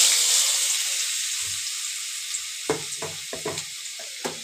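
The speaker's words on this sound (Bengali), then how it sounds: "সবার প্রথমে আলুটা দিয়ে ভেজে নেব" Potatoes sizzle in hot oil in a wok over a gas flame, a steady close hiss broken by several sharp clinks of stirring toward the end.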